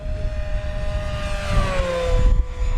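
A Durafly P-40N 1100mm electric RC warplane makes a loud, close pass with a droning growl whose pitch sweeps down as it goes by.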